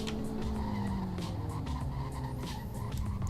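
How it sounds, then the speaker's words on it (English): Sports car in the Roblox game Greenville braking hard from high speed, a continuous loud tire skid and squeal over engine noise, sustained for several seconds with a falling pitch as it slows. "Let's do a brake test."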